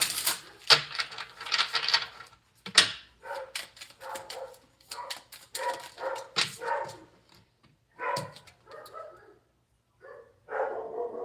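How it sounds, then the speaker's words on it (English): A dog barks repeatedly in the background in sharp, irregular bursts and short runs, moderately loud. "Excuse the background noise. I hate that dog,"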